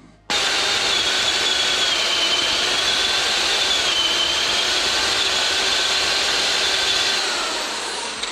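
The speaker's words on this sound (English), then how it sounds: "I'm gonna put on a 1-inch spade bit here to drill about halfway through" A loud, steady drill whine from a 1-inch spade bit boring into wood runs nearly unbroken for several seconds, then tapers off slightly at the end.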